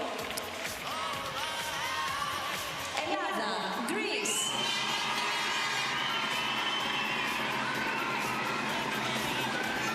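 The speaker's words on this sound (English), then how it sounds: "getting a big cheer from the crowd" Crowd cheering at an artistic swimming competition, a swelling roar of whoops and shouts that rises suddenly and stays loud and sustained, with a commentator speaking before it.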